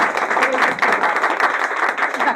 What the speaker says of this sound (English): if we can just give Ismail another round of applause